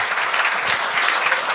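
Audience applause at a comedy show, a steady dense clapping from a crowd that fills the whole moment without pause, loud and even throughout.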